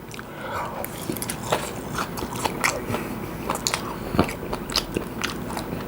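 Smoked duck with garlic chives is chewed close to the mic, giving wet crunchy bites and mouth sounds repeating steadily throughout.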